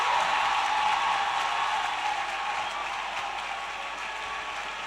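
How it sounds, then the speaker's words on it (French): A church congregation applauding, a dense, steady wash of clapping that fills the space and slowly fades a little, with no voices standing out. "s'ils ne veulent pas vous acclamer, acclamez-vous vous-même"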